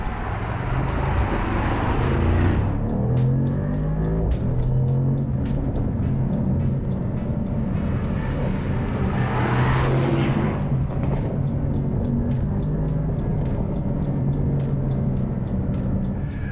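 A Mercedes-Benz SL 55 4Matic+ on the move, with dense engine and road roar steady throughout and two swells of rising engine pitch as it accelerates, heard from close by.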